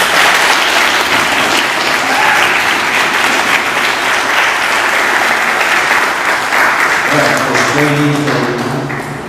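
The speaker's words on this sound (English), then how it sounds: "Good job on the cheering." Loud, close audience applause with some cheering at a book launch event, a continuous thick wash of clapping throughout, with a voice starting to speak near the end as it fades slightly.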